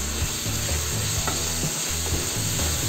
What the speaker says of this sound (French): Je vais venir ajouter le concentré de tomate et je vais le faire cuire de 5 à 10 minutes